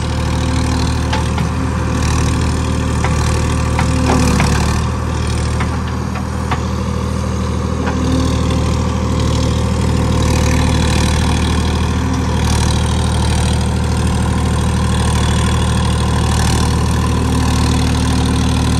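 Swaraj 963 FE tractor with a JCB-style loader attachment idling and running steadily while loading a trolley in mud, a continuous loud low diesel drone with a constant hum throughout, close by and with no talking.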